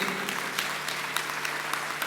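An audience applauds at a ceremony honouring a pair of students awarded an excellence scholarship: dense, steady clapping from many hands throughout, close and continuous with no voices.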